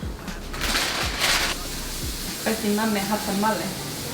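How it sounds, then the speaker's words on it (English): Vegetables with seasonings cook in a pan as noodles are prepared for an avocado pesto pasta, giving a steady close sizzle throughout, with a voice speaking over the second half. "now we're letting our veggies just cook here"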